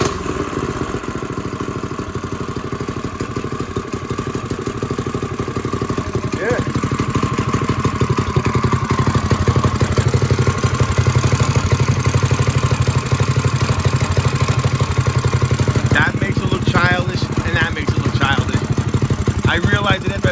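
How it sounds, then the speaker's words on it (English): A 1970 Bird minibike's small engine idles fast and steady, a continuous close putter with some clatter, and a few brief sharper sounds near the end. "This might be idling a little too hard."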